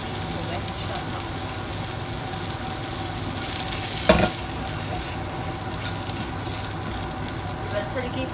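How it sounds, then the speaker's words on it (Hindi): Onions sauté in oil in a pan with a steady, close sizzle throughout and one brief clatter midway. A voice talks over the cooking. "प्याज हमने 1 मिनट तक सौते की है"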